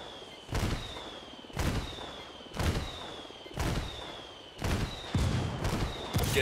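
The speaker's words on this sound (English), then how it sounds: "I called the rebels for some indirect fire." Rebel artillery indirect fire in the Ghost Recon Wildlands video game: a steady series of about seven heavy booming impacts roughly a second apart, each with a rumbling tail and a faint whistling tone, loud and fairly close.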